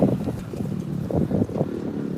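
Strong gusts batter a microphone outdoors on a windy, rainy day in the City of London, giving a steady, heavy low rumble with surging buffets throughout.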